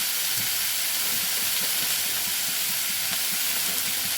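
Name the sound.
methi greens frying in oil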